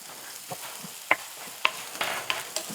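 Chopped onion added to oil with spluttered mustard seeds and two dried red chillies in a pan, a soft background sizzle punctuated by a few sharp spatula clinks and scrapes, no speech.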